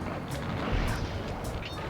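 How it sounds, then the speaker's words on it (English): Fireworks in the Sly Cooper video game crackle and burst in several quick, sharp pops over a dense, rumbling background. "And fireworks."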